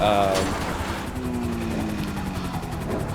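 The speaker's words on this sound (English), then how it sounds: "These helicopters are super annoying" Video game helicopters whir and drone steadily throughout, a continuous rotor hum with a louder burst at the start while a player talks over it.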